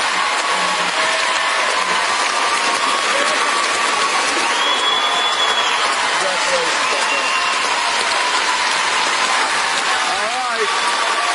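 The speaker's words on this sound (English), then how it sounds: "I think everyone here should stand up and applaud you" A live studio audience at a ballroom dance competition breaks into sustained applause and cheering, a dense, even wash of clapping that holds for the whole stretch.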